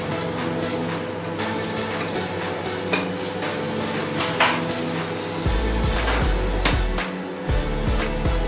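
Quail eggs fry in a worn non-stick pan as part of an English breakfast, giving a steady close sizzle with occasional stirring and scraping of the pan and a low hum underneath.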